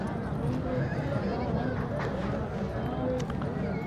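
Horse hooves at the Dera Ghazi Khan horse fair, a dense, irregular clatter of steps under a busy outdoor crowd murmur, moderately near.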